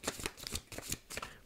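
Tarot cards riffle and slap rapidly in several quick bursts as a deck is shuffled and extra cards are drawn during a reading, close and crisp with no talk.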